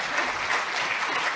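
Steady, dense applause from a conference audience honoring the event staff, filling the short stretch at an even level with no pauses.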